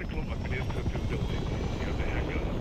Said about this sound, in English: There goes the helicopter.